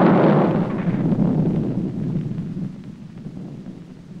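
A single deep boom from a quarry blast bringing down limestone rolls out with a long rumbling decay that fades over several seconds, heavy and distant, with no talking.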